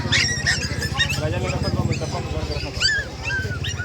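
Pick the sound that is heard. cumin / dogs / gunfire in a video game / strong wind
dogs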